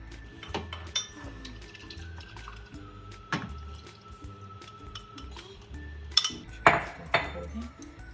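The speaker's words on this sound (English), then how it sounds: "And whisk." A whisk clinks and scrapes against a pot as a milk and cornstarch mixture thickens for a syrup-topped pastry dessert, with irregular metallic taps, soft liquid sloshing and a few louder knocks near the end.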